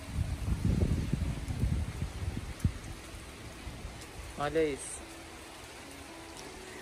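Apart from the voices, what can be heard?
heavy rain falling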